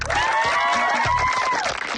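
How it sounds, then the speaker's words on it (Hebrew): A crowd claps for the football teams after a 30-minute match, producing a dense, continuous wash of applause with a thin tonal whine riding above it and no speech. "רק אז זה מגיעות לכם מחיאות כפיים"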